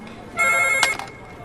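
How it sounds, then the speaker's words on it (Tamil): An office telephone rings loudly in a Tamil-dubbed crime drama, a single bright electronic trill lasting about half a second with a short click after, set against quiet room tone. "காலையில இருந்து ஃபோன் அடிக்குது, யாருமே எடுக்க மாட்டீங்க."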